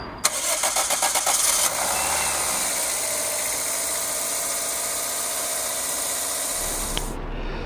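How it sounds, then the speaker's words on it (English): Daihatsu Cuore Avanzato TR-XX R4 engine cranking with rapid rhythmic starter pulses, catching within about two seconds and settling into a steady close, loud idle as it warms up. "that's the engine starting to warm up now"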